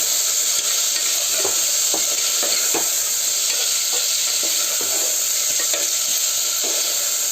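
Mutton bone pieces frying in hot oil for Hyderabadi mutton bones marg, a loud, constant hissing sizzle with a few soft stirring knocks underneath, close by and with no voices.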